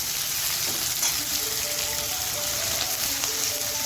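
Onion sautés in a pan over a medium flame, giving a dense, even sizzle, much like light rain, that runs steadily at close range without any voices.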